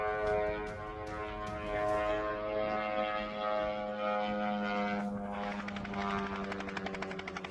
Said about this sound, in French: c'est un drone qui a vraiment l'air d'un Shahed